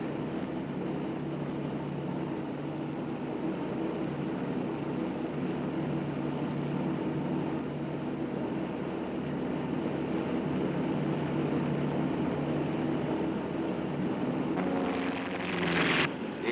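Steady low aircraft engine drone from a plane coming in to land with full flaps, a continuous broadband roar holding level throughout, swelling briefly near the end.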